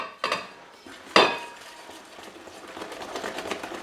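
A wire whisk beats marbled yogurt cake batter in a bowl: two sharp clinks against the rim, then a steady, close scraping swish of the whisk.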